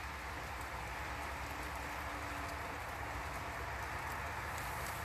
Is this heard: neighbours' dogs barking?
no